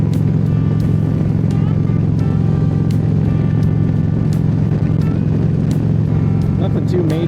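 Steady engine hum and tire roar from a car cruising along a highway, heard from inside the cabin, with occasional faint clicks over the constant drone.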